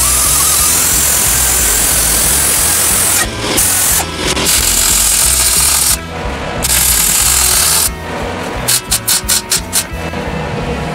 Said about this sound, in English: and then I get a weld in there